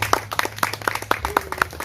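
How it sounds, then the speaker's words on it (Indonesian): At a mangrove ecotourism event in Jayapura, a small audience claps briefly in a quick, fairly loud burst of hand claps lasting under two seconds. "Kita tepuk tangan dulu."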